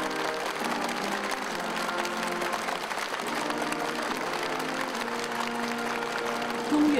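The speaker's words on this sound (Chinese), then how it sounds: "中越双方嘉宾全体起立，热烈鼓掌。" Guests rising and applauding warmly in a large ceremonial hall as leaders enter, steady sustained clapping throughout with ceremonial music tones underneath, ending in a slightly louder swell.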